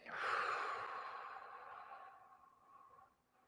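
A slow, deep breath let out during a guided breathing exercise, a soft airy exhale that starts strong and trails off over a few seconds, quiet and close, alone without speech.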